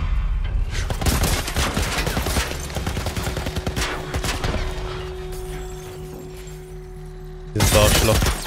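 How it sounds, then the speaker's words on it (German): Gunfire in the video game The Last of Us: loud, sustained bursts with crashing impacts fade into a quieter stretch before another heavy burst hits at the end. "Verdammt, womit schießen die da auf uns?"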